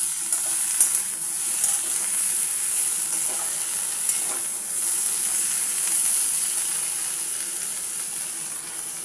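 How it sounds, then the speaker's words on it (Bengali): Spices frying in a pan give a steady, even sizzle and hiss that runs throughout, close and fairly loud, with faint stirring scrapes and no talk. "এবার আমি মশলাগুলো দিয়ে দিচ্ছি"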